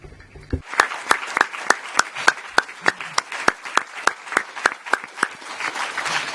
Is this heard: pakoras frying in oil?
no